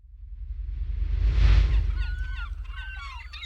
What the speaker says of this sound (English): The seagull sound effects sell the effect of the bird being in the scene.